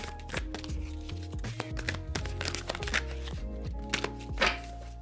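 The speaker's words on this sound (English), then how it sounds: "These are not the easiest cards for me to shuffle. They stick together" Card deck with sticky cards shuffled by hand close up, giving a busy run of soft flicks, taps and thuds with uneven rhythm and a faint background tone.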